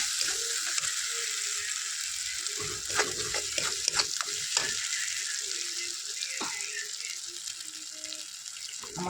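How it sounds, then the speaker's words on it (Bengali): Masala with ground poppy seed paste sizzles in a pan while a spatula scrapes and knocks against the metal in irregular bursts, the frying hiss running steadily underneath. "এটাকে একটু ভালো করে মশলাটাকে কষিয়ে নেব।"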